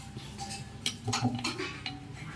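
Ivy gourd pieces are tossed with salt, corn powder and turmeric in a bowl, giving close, quiet clinks and shuffling knocks in an uneven rhythm.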